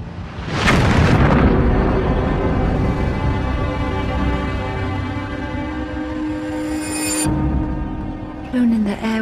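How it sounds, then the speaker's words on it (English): A loud, sustained explosion rumble in a historical documentary about the blast that destroyed Darnley's bedroom, opening with a sharp burst and rolling on for several seconds over droning music before cutting off abruptly near the end. "It isn't long before an explosion destroys Darnley's bedroom"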